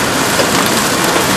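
Heavy rain and hail pound down in a severe thunderstorm in Rowlett, Texas, making a loud dense roar with sharp pelting close by.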